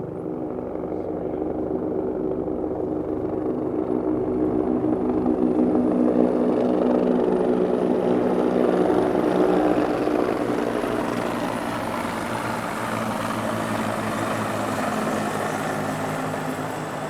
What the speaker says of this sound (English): we have 408 Squadron about to fly over the Cenotaph